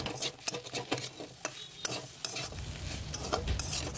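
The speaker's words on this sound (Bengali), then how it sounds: "আগে থেকে সিদ্ধ করে মেখে রাখা বা ভেঙে রাখা আলু দিয়ে এটাকে একটু ভালো করে আরেকটু কষিয়ে নেব" Mashed boiled potatoes sautéed in a pan for aloo paratha filling, a soft, faint sizzle with scraping stirs and light taps of a spoon, heard alone with no talk.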